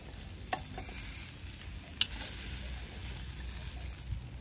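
Pork and chicken sizzling on a grill give a steady, quiet crackle with a few sharp clicks and scrapes, heard alone without talk.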